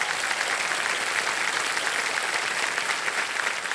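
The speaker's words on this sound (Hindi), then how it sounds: "तालियां बज जाए" A studio audience applauding on the Hindi quiz show KBC, a steady dense wash of clapping that stays even and fairly loud throughout.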